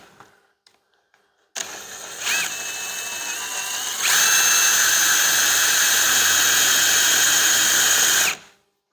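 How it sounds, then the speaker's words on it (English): A power drill with a 5/16 bit whirs up loudly while drilling for Chevy 1500 air bag installation, climbing in pitch after a couple of seconds and running steadily at high speed before cutting off abruptly. "So if I grab my drill, this is a 5/16 drill bit for them to go through"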